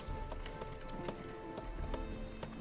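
Hooves of a knight's horse in the Kingdoms and Castles strategy game, a quick steady clip-clop run of soft knocks heard close over a dense game background.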